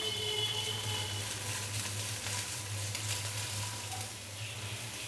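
Ginger garlic paste frying in hot cooking oil, a continuous close hiss and sizzle that holds steady and then eases slightly toward the end, with no talking.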